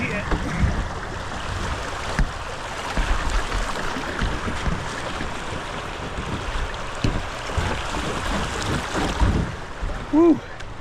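A kayak paddles through fast river water in Maine, with steady rushing and splashing throughout and a brief voice near the end.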